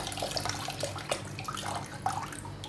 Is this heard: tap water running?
yes